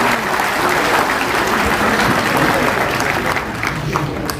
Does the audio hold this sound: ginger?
no